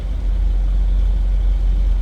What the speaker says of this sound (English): Nice little rumble coming out of that V8.